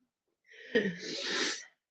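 A single sneeze, sharp and close, with a burst of breathy noise trailing off for about a second, in an otherwise quiet room.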